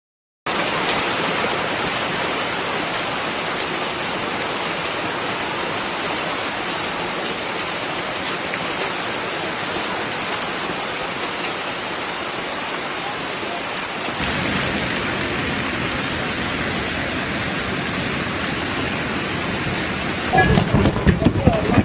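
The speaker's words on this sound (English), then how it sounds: "Torrential rain flooded low-lying areas" Heavy rain pours steadily in a dense, constant hiss during a severe hailstorm in Tennessee, loud and close, with the texture shifting partway through and a few sharper patters near the end.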